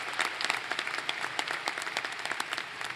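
A crowd applauds students at a ceremony, many hands clapping in a dense, sustained burst with no talking over it.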